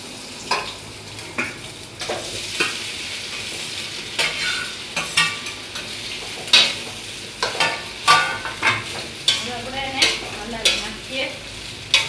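Mustard seeds and bottle-gourd dhokla pieces frying in hot oil, a constant close sizzle punctuated by repeated sharp scraping and clattering stirring strokes that grow busier toward the end.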